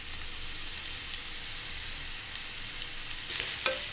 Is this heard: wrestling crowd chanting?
no